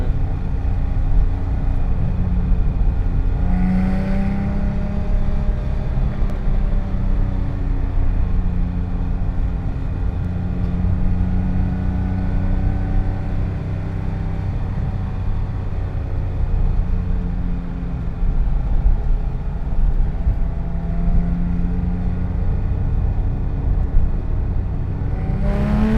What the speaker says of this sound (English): You hear your exhaust. You hear the synchros in the transmission.